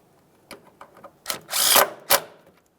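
A power tool snugs up a CV axle mounting bolt on the front suspension of a 2006-2012 Ford Fusion, with a few short whirring bursts and a louder sustained run near the end, fairly close.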